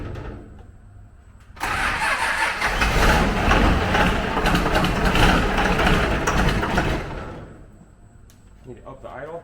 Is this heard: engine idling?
yes